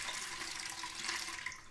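Fruit punch mead pours from a bottle in a steady, splashing stream that runs evenly for nearly two seconds, close by and with no talk.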